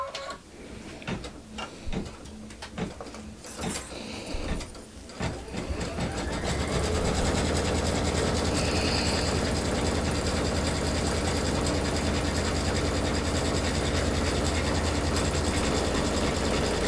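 Light mechanical clicks and fabric handling come first, then a close sewing machine settles into a loud, continuous whirring hum while stitching the edge of a fabric basket.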